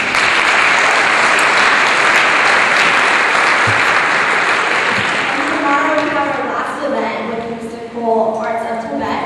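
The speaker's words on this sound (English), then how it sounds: "So please give a round of applause for them." An audience at a Tibetan sand mandala and sacred dance event on campus gives loud, sustained applause for about six seconds, which then tapers off as a speaker begins talking.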